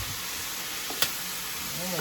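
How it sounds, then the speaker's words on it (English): Cabbage with oyster sauce sizzling steadily in a hot pan, a constant loud hiss with a brief clink of stirring partway through. "Can you hear the sizzling, guys?"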